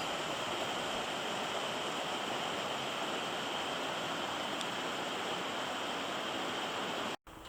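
Creek rapids at Whitehorse Falls in Whitehorse Wildlands Park rush along a rocky creek valley, a steady, close, full-bodied roar of churning water that holds constant throughout and cuts off abruptly at the end.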